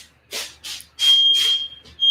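A smoke-triggered fire alarm shrieks in loud, piercing bursts, four or five rapid beeps with a steady tone between them, set off while a reverse-seared steak cooks at Christmas.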